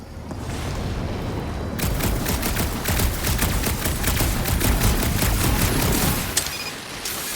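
Rapid gunfire from the Guardians of the Galaxy video game breaks out after a quieter opening, a loud, continuous rattle of shots and booms that runs for several seconds before easing off.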